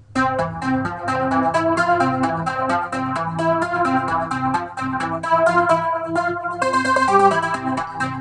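A bright synthesizer arpeggiator preset (Arpinator SF in FL Studio) ripples through rapid repeating notes in a steady pattern, light and airy, played alone at a clear, even level.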